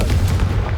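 Confringo fire spell blast in Hogwarts Legacy, a brief heavy booming burst, loud and close, with a rumbling low thud like artillery fire.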